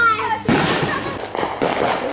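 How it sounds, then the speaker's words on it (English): Fourth of July fireworks boom and crackle in loud bursts, a sharp blast followed by ongoing popping, while excited voices talk over the display. "Look at all these fireworks."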